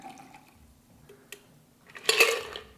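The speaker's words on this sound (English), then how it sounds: "take a tall glass like this one and pour your cocktail" A Zombie cocktail is poured from a shaker into a tall glass, a short close liquid splash and trickle that swells near the end after faint clinks and quiet handling sounds.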